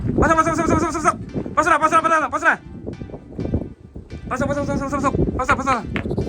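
Sheep bleat loudly and repeatedly in long wavering calls, several animals close by, with short pauses between cries.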